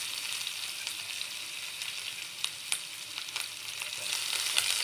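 Onion fries for masoor dal in hot oil, giving a steady, close hissing sizzle with small crackles and a few stirring taps throughout.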